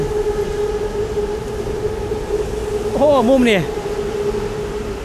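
A train passes through central Bangkok near Chidlom over a steady urban hum, with a swooping tonal whine rising and falling for about half a second near the end, while a person talks nearby.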